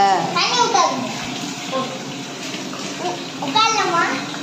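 Water splashing and pouring into a children's mini swimming pool on a summer day, a steady running wash under a voice and adult talk throughout.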